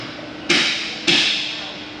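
Two sharp metallic bangs about half a second apart, like hammer blows in a workshop, each ringing out and fading.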